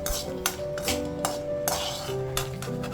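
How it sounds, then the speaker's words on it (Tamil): Fried dried chillies are moved from a pan onto a plate, giving a run of quick metallic scrapes and clinks at an uneven, steady pace, close up, over a constant low hum. "மிளகா நல்லா வறுத்த உடனே மிளகாயை வெளியில் ஒரு பிளேட்டில் மாற்றிடுறேன்."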